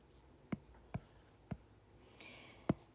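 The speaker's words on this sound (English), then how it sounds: "let's go ahead and erase the upper part right here" An eraser or marker on a whiteboard while clearing an equation gives four sharp, evenly spaced taps and rubs, close and clear, followed by a faint squeak.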